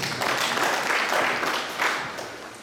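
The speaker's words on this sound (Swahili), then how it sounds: "Amenipigia makofi." A congregation at a church appreciation and praise night in Kisii gives a brief, moderately loud round of applause that swells and then eases off.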